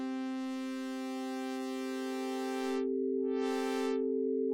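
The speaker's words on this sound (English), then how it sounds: "So here I'm going to have the oscillator, which is a sine wave, modulate the cutoff frequency." A sustained synthesizer chord whose brightness sweeps slowly as a sine-wave oscillator modulates the filter cutoff, the tone growing dull then bright again.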